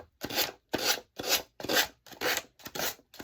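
A Gator Tool brush scrubs paint off a patriotic flag craft piece in seven rough rasping strokes, each a loud scratchy burst with brief pauses between, close up and with no talking.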